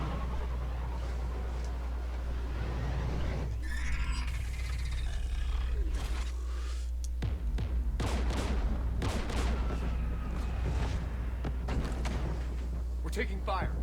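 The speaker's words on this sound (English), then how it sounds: "We're taking fire." Gunfire and combat noise in the video game Mass Effect 3 against Geth anti-aircraft guns, with bursts of sharp shots and roaring blasts mixed with game music and voices over a constant low hum.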